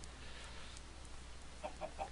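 Three short, faint Minecraft chicken clucks in quick succession near the end, over a quiet hissy background.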